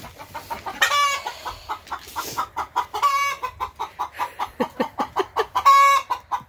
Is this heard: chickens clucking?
yes